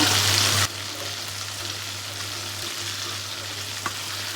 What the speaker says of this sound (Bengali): বাকিগুলো এইভাবে ভেজে নেব